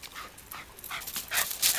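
A Jack Russell or Old English Sheepdog whimpers and pants close by in short, uneven bursts of breathy whining that grow louder toward the end, with no talking.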